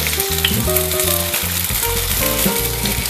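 Paneer tikka pieces frying in refined oil on a tawa, turned to brown on every side. A loud, continuous crackling sizzle fills the clip, with faint background music underneath.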